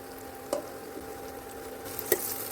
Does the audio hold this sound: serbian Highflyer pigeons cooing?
no